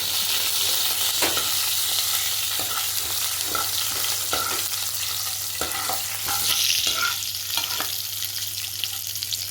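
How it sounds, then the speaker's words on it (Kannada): Cumin, mustard seeds and urad and chana dal fry in hot oil with a continuous crackling sizzle and scattered pops and spatters throughout, close and fairly loud, with no one speaking. "ಸ್ವಲ್ಪ ಕಡಲೆಬೇಳೆ ಫ್ರೈ ಆಗಬೇಕು"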